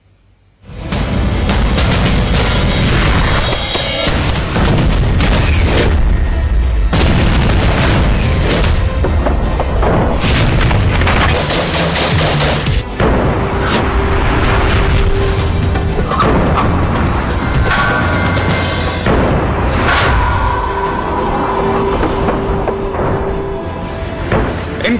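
Heavy artillery guns firing, with booming blasts and crashing impacts continuing loudly and densely for most of the stretch, no pauses between the heavy reports.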